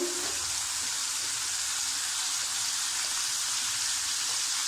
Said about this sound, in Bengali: একটা আলুকে আমি কুচি কুচি করে কেটে নিয়েছি, তেলের মধ্যে দিয়ে দিচ্ছি